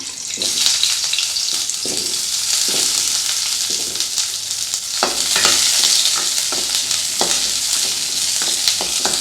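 Onions and garlic fry in hot sesame oil, a loud, close, continuous sizzle broken by repeated scraping stirs of a spatula against the pan, with no one speaking.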